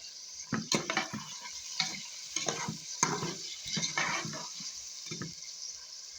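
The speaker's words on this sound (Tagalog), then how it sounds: "Already half fried these potatoes. Now I can put now these tomatoes and green chilies." Tomatoes and green chilies go into a pan of half-fried potatoes, with intermittent stirring scrapes and soft clinks over a steady background sizzle, close and moderately loud, no talking.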